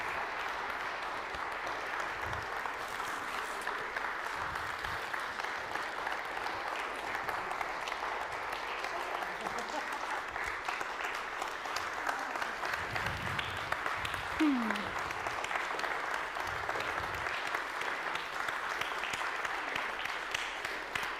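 A large indoor audience claps steadily and continuously throughout, a dense even wash of applause with occasional faint cheers and voices mixed in.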